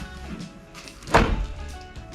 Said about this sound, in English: Let's just double check the door closes.